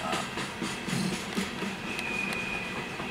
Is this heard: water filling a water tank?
no